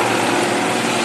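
Helicopter carrying oil platform workers, nearly dropping into the sea off Rio, heard as a loud, steady rotor and engine roar over one brief moment with no voices.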